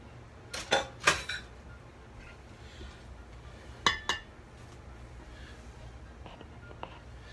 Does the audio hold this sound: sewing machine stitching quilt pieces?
no